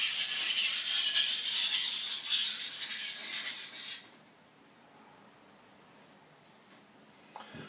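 A knife is ground on a Shapton Ceramic Pro 320 grit whetstone, giving close, rhythmic scraping strokes for about four seconds before the grinding stops and near silence follows.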